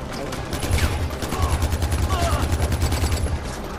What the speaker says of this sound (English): Still trying to get used to shooting